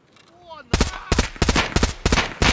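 Rapid automatic gunfire in Escape from Tarkov rips into a scav on the Customs map, a dense string of loud, close bursts with short gaps that starts abruptly after a quiet moment with a faint rising tone.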